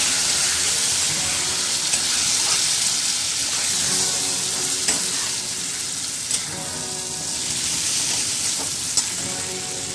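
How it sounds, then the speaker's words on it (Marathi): Water poured into a pan of sizzling bitter gourd sabzi with masala, giving a loud, steady hiss of steam and frying with soft stirring scrapes, close and continuous. "त्यामध्ये मी थोडंसं पाणी टाकत आहे"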